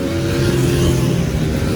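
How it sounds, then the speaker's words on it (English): XR100-class mini moto motorcycles racing on a track, producing a loud, continuous small-engine drone that rises and falls slightly as the bikes rev past, with no voices. "There's a motorcycle race before our race, like mini moto stuff"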